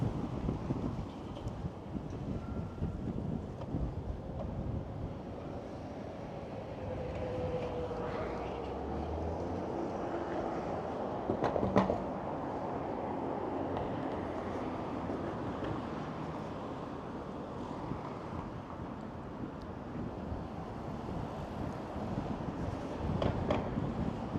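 Gusty wind buffets the microphone on a downtown Toronto city street along Yonge Street, a steady broad roar with low rumbling, continuous throughout with occasional brief knocks, no talking.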